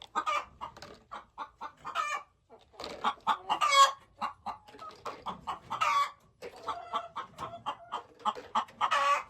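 Several hens cluck and chatter close by in busy overlapping bursts, with short pauses between flurries.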